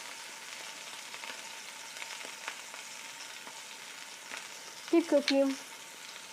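Scallops sear in a hot pan with a steady, close sizzle throughout, and someone speaks briefly near the end.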